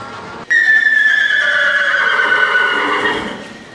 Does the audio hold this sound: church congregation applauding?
no